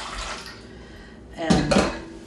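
Lukewarm water is poured into a vessel for bread dough, a brief close splashing gush that swells near the end after a softer trickle, with light kitchen clatter around it.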